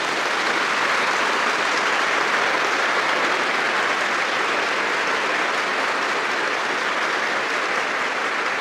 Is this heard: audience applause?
yes